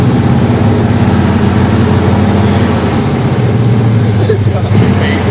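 Steady, loud engine rumble from a cold 1968 GMC half-ton two-wheel-drive truck, idling roughly just after starting, with a continuous low drone throughout and voices talking over it.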